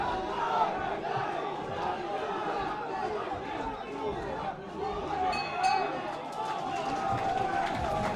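Boxing fight-night crowd in a packed hall, a steady roar of chatter, shouts and cheering that holds throughout with a few sharper yells and clinks rising out of the din.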